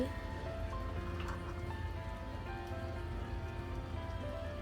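Beef curry sizzling and frying in a pan as it is stirred, a steady dense crackle that runs unbroken throughout at moderate loudness.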